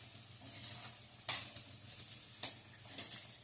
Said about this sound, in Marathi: पुन्हा हे सगळं छान परतून घ्यायचंय.